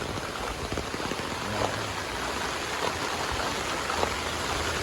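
Heavy typhoon rain pours down steadily in a dense, even hiss of close drops and splashing water, with no pause throughout.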